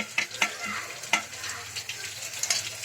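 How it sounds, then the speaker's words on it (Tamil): Medium onion, curry leaves and carrot sautéing in a pan for rava upma, with a steady close sizzle and several sharp spatula scrapes and taps spaced through it. "அப்புறம் ஒரு மீடியம் சைஸ் வெங்காயம் போட்டு நல்லா வதக்கிக்கலாம்."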